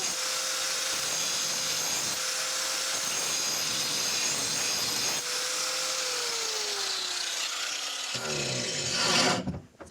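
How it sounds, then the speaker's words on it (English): A power tool grinds steadily for several seconds at an off-grid homestead, a sustained whining rasp that drops in pitch toward the end before cutting off abruptly, with no talking. "Just needed to do a little grinding"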